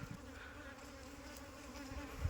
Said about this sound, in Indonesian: Lebah masih berterbangan juga di bagian pintu depan.